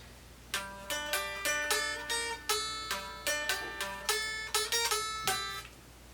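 Acoustic guitar with a capo plays the intro of a song, slowly, as a series of plucked and strummed chords that ring out one after another, close and clear with no talking.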